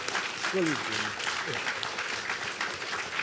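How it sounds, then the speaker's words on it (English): A school audience applauds the mayor at a high school question-time event, with sustained clapping at moderate loudness and a voice speaking briefly over the start. "Let's hear for the mayor."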